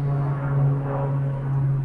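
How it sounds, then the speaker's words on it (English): A fixed-wing airplane passes high overhead during an excavator boom repair job, giving a steady, moderately loud propeller-engine drone with a strong low hum that holds evenly throughout, with no talk. "I'm sorry about that plane going by."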